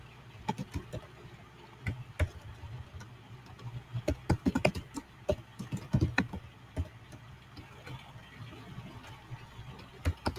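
C++ code is typed on a computer keyboard as quiet, irregular keystroke clicks in bursts, close by and heard alone with no talking.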